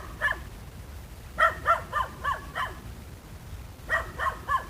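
Puppies bark and yip in short, high bursts, several quick yelps in clusters with brief pauses between, close and fairly clear over a low background murmur.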